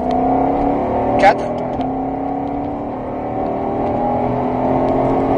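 On the Folembray circuit during a driving course, a car engine drones steadily from inside the cabin and its pitch rises as it accelerates, with a brief spoken word and a faint knock over the engine.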